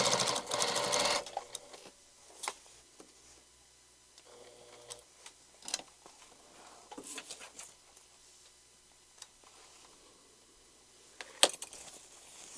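A sewing machine stitches the lining of a black denim handbag in a short opening burst, followed by quiet handling clicks, taps and fabric rustles up close.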